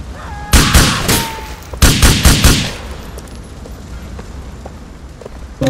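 Gunfire in GTA 4: two loud, close bursts of rapid shots, the second a few quick strikes, each followed by a ringing tail, then only quiet ambience.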